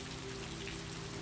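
Steady gentle rain falls through a night in the Oregon mountains, a soft continuous patter with a faint low hum beneath, no voices.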